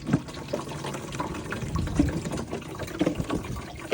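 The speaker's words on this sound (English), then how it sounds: "So what we do is we just fill it up with this good old water," Water gushes and gurgles as a bottle is filled at a store's water refill machine, a close, steady pouring stream with small bubbling surges and no talking.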